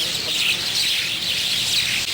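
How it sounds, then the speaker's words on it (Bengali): A large flock of common mynas gathered in Bangladesh fills the air with a dense, continuous wash of chirping and chattering, with no single call standing out. "শালিকের কিচিরমিচির শব্দে মুখরিত হয়ে ওঠে গোটা এলাকা।"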